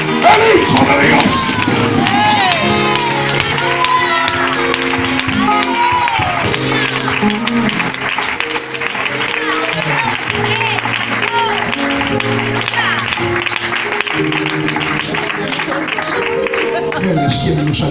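A church congregation claps and cheers steadily over music, with voices shouting and singing throughout.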